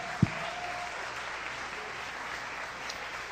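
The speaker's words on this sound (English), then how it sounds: "Come on, just give them a little clap" A conference crowd at a church gathering gives a soft, continuous round of applause, a diffuse steady patter heard somewhat distant, with one sharper knock near the start.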